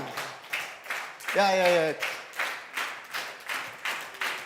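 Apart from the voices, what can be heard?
audience clapping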